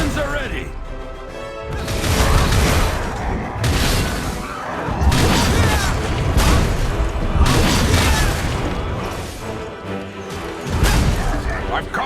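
Repeated heavy booming cannon blasts in a busy Black Desert battle on Android, loud and dense, with crashes and a voice talking over the barrage.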